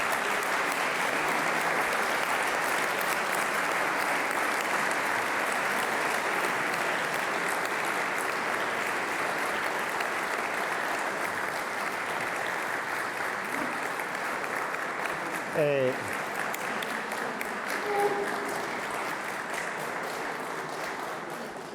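Steady applause from a large audience welcoming a gospel choir onto the stage at a concert event, filling the hall evenly throughout, with a few brief voices and tones rising near the end.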